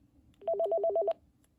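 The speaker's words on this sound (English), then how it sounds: "Then for line 2, the classic ringtone." A Panasonic telephone plays its classic ringtone as a short burst of rapidly alternating two-pitch electronic trills, lasting under a second, clear and close with quiet surroundings.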